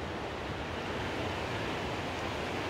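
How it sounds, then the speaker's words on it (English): Steady rushing of river water flowing at a campsite by Riffe Lake, Washington, a constant broadband wash with no pauses, moderately loud and close, with no voices. "Can you hear the water?"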